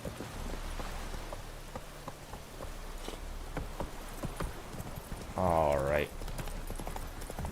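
The horse Roach's hooves clip-clop in The Witcher video game, a light steady rhythm of hoofbeats under rain-like patter, with a brief spoken word and a short whinny-like vocal near the end.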